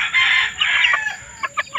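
A giant-type Shamo rooster crows loudly and close, a single drawn-out call that trails off into a few short clucks.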